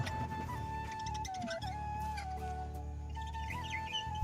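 Pet pigeons, including a young bird, make small chirps and squeaks over a steady low indoor hum, with short, scattered calls and no talking.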